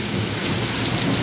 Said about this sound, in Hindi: ये देखिए बहुत शानदार बारिश हो रही है